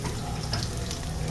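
Chopped onion and green chilies are dropped into hot oil for a short burst of frying hiss. A louder sputter bursts out at the end.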